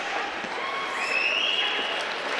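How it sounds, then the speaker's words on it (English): Spectators at a WHL junior hockey game between the Regina Pats and the Moose Jaw Warriors give a modest round of clapping in the arena, steady and moderately distant, with a rink tone running through it. "A little round of applause here from the faithful as he heads off"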